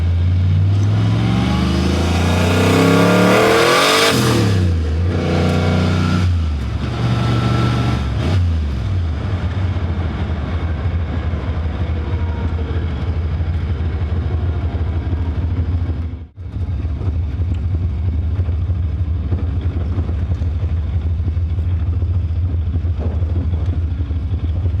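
A car with a blow-through turbo setup accelerates hard through the gears, loud and close, engine tone sweeping upward, dipping briefly at a shift around the midpoint, then droning on steadily.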